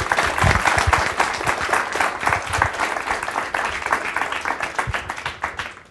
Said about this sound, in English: how about a round of applause for me?